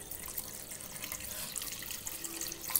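Water runs steadily into a pot of mutton coconut milk curry, a continuous splashing pour with a soft, even hiss throughout.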